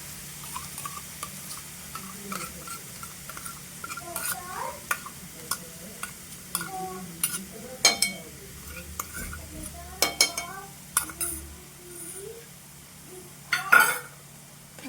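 Spoon stirring a curd-and-masala mixture sautéing in oil in a pan over low heat, giving soft repeated scraping and light clinks with a faint sizzle underneath, fairly close and quiet, no talking.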